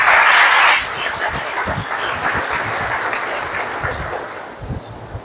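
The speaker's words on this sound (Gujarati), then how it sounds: "એકવાર જોરદાર તાળી રજૂ" Audience at a Sanskrit story recitation competition bursting into loud, dense applause that then settles into steadier, thinner clapping from many hands, continuing throughout with no speech.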